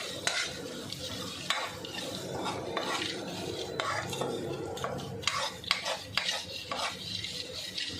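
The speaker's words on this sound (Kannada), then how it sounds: "ಇದನ್ನು ಒಂದು ಸಲ ಚೆನ್ನಾಗಿ ಎಣ್ಣೆಯಲ್ಲಿ ಬೆರೆಯುವ ಹಾಗೆ ಮಿಶ್ರಣ ಮಾಡಿ" A spoon stirs grated fresh ginger through hot oil in a pan for kadalekalu palya, giving a run of soft scraping strokes and faint sizzling, close and steady with no talk.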